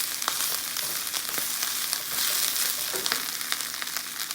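Onions caramelizing in a pan for a vegan pizza topping give off a steady, close sizzle with soft crackles and scattered pops throughout, alone with no talk.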